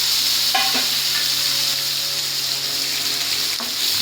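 Chopped onion and tomato fry with whole cumin, garam masala, bay leaf and dried red chilli in hot oil, a loud continuous sizzle with a couple of sharp stirring clinks.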